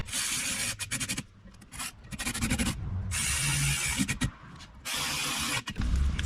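A ratchet tightens bolts on the impeller cap of a pontoon boat engine, giving close, loud bursts of rasping clicks that start and stop several times, with no talking.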